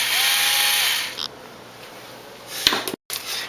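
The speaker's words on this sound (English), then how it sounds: "The last thing is a nice cordless power drill." A cordless power drill whirs steadily for about a second, then cuts off, leaving quiet room tone broken by a few sharp clicks and handling knocks.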